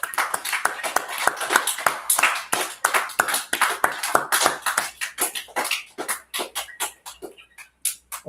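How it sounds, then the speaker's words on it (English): A church congregation gives a round of applause during an opening Shabbath reading service. Claps ring out in a brisk, scattered patter, then thin into separate individual claps before they die away. "I'll give yourselves a round of applause."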